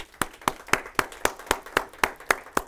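A paralegal class clapping for themselves comes through as a slow, evenly spaced run of about ten sharp claps, fairly close and in unison.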